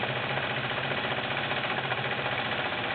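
A Kenmore 1750 sewing machine drives through six layers of denim, its motor humming in a steady, continuous rapid whir, close and fairly loud throughout, with no talk.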